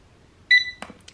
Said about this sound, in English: until you hear that bleep.